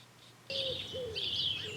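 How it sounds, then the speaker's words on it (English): A pet bird indoors chirps several times in quick succession, clear, close tweets and short whistled calls over a quiet room hum, with no talking. "He is being a bad bird and opening his birdseed"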